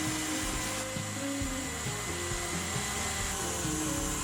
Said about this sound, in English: Then we're going to mix this on a high setting for about 10 to 15 minutes until the meringue is nice and glossy